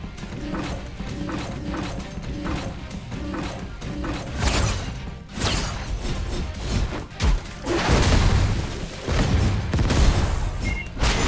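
Wolverine's attacks in the Metallic Child game set off punchy, clanking explosion and impact bursts over a busy mechanical, metallic clatter, loud and irregular with no speech.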